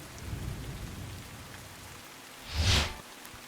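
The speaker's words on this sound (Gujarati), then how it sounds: "નવસારીમાં સવારથી ધોધમાર વરસાદને કારણે જનજીવન પ્રભાવિત થયું છે" Heavy monsoon rain falls in Navsari with a soft, steady hiss, and a brief louder rumble swells near the end, all fairly faint.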